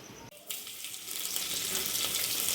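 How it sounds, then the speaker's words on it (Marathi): Lentils dropped into hot oil for a tempering, breaking into a loud, steady sizzle that swells after a brief pause at the start and keeps crackling close up with no talk. "त्याच्यानंतर आपण पहिल्यांदा डाळी फोडणी टाकूया."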